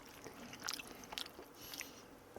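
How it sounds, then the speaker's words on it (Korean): Takoyaki with leek and octopus being chewed close up, soft wet bites and a few crisp crunchy clicks in an uneven rhythm, faint and quiet with no talk. "꼭꼭 씹어 먹어야겠구만"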